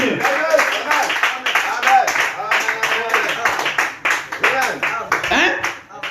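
A church congregation claps rhythmically in praise at a Pentecost gathering, with quick, steady hand claps running under loud preaching.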